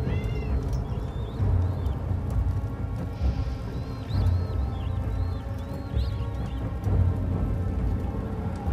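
A pet cat meows repeatedly in a room, several short rising calls spread across the clip over a steady low rumble of game sounds, with no talk.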